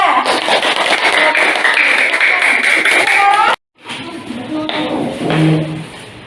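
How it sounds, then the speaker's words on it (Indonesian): Dense clapping from a classroom group during a teaching practice session, steady and fairly loud, breaking off abruptly before quieter room noise and a few scattered claps return. "Tepuk tangan untuk kelompok 2"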